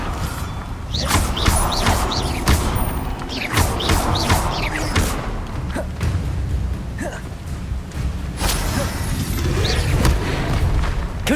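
Bombarda and Confringo spells exploding in the game Hogwarts Legacy: a rapid series of loud blasts, cracks and thuds repeating throughout over a busy low rumble of combat, with no talking.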